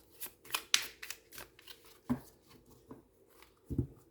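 Tarot cards being cut and handled on a table, a faint series of soft papery snaps and flicks in irregular rhythm, close and quiet with no talk.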